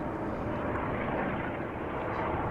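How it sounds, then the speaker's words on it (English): A Lifeliner trauma helicopter flies near Amsterdam Schiphol Airport, a steady, fairly loud broadband engine and rotor roar that holds even throughout, blended with the wash of airport aircraft noise. "Oh, and am I hearing a helicopter? I am."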